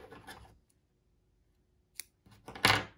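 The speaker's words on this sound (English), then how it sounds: "I cut my needle free." Scissors snip through yarn to cut a needle free, giving a faint click and then a quick, crisp close-up cut after a pause of near silence.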